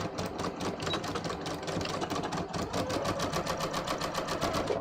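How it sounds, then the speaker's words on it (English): A sewing machine stitches a garment waistband with a fast, even mechanical clatter that runs continuously and close up for the whole stretch. "now I'm just going to sew this"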